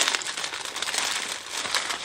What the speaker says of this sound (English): Sorry about the plastic noise.